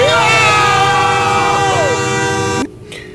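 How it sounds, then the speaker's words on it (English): A train horn blasts loud and close in one long harmonic blare over the rumble of a long passing train, then cuts off abruptly and leaves a quieter rumble. "this is one of them trains that's long as shit."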